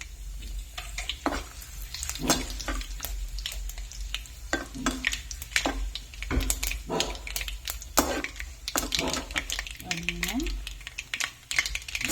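Cloves and dried red chillies fry in hot oil for a tomato curry, a close, fairly quiet sizzle with sharp irregular pops and crackles throughout, a few stirring knocks, and a brief voice-like sound in the background.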